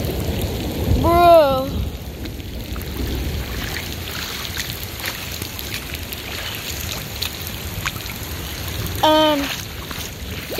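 Steady rain pattering on a flooded garden and wide puddles, a continuous close hiss of drops on water, with two short bird calls briefly rising above it.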